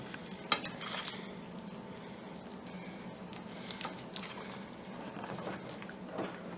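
Plum cake batter being folded and mixed by hand in a bowl, with soft, steady scraping and squishing strokes and a few light clinks of a utensil against the bowl, fairly quiet and with no voices.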